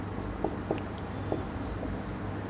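Chalk or marker writing on a board during a Hindi-medium physics lesson on refraction at spherical surfaces, heard as a few soft taps and scratchy strokes over a steady room hum, with no one talking.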